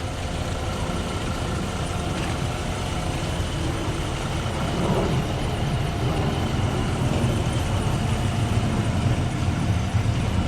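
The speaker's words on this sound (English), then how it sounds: "And it is running, believe it or not, nice and quiet." A 2019 Chevrolet Silverado work truck idles quietly, a steady low engine hum that holds evenly throughout with no voices over it.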